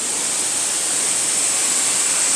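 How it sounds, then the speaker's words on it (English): A waterfall in Koh Phangan National Park roars in a dense, unbroken hiss of falling water, loud and close, without voices. "Chilled out at this waterfall."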